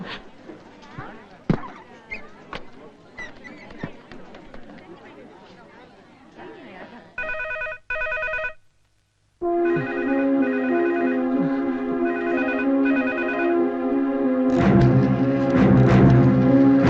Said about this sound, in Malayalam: ഞാൻ ഒന്ന് ഫോൺ ചെയ്തോട്ടെ